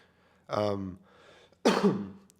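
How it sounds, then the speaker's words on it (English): Two harsh throat-clearing coughs, close and loud as if right at a microphone, separated by a short quiet gap. "Sorry for all the coughing into the microphone."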